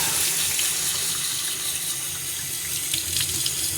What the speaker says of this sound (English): you want to rinse that off with a little bit of water and get rid of that